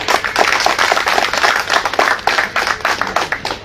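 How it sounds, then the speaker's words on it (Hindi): Loud, dense applause from a crowd at a public gathering at Jantar Mantar, Delhi, honouring the president, with steady clapping running through the whole stretch. "एक बार और एक जोरदार तालियां हमारे प्रेसिडेंट तामे तुबिन जी के लिए।"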